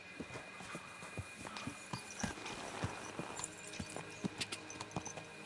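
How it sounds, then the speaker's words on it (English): Horse hooves clip-clop in a walking rhythm in the video game Kingdom Come Deliverance 2, a series of sharp, fairly close thuds over a soft ambient hum. "Use the fucking horse!"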